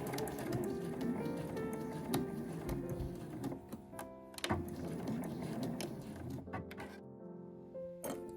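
Sewing machine stitching a quilted nubi fabric drawstring cooler tote, a continuous rapid mechanical chatter of the needle with brief pauses and clicks, close and steady throughout.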